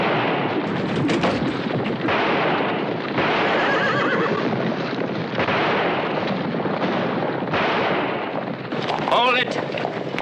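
Loud horse whinnies and neighs ring out in a Wild West scene from a 1966 film, mixed with clip-clopping hooves and dense action sound effects throughout.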